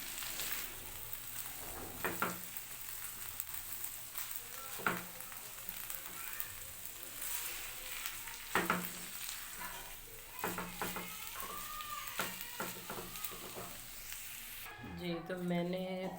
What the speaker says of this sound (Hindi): इसको अच्छे से मिक्स कर लें।